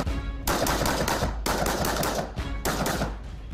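Real weapons fire at a shooting range during a training session, producing three dense bursts of rapid automatic gunfire, loud and close, with short gaps between them.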